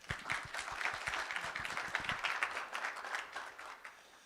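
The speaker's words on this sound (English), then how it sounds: "Please give a round of applause for Amy" An audience applauds a speaker at a SCaLE conference session, a crowd of hands clapping in a moderately loud, dense patter that slowly thins and fades toward the end.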